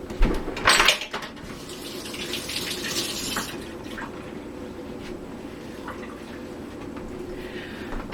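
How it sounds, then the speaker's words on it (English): Tap water runs steadily in a home kitchen as hands are washed after mixing a tofu mixture for crock pot meals, opening with a brief clatter before settling into a continuous close, moderate rush. "Need to wash the hands again, guys."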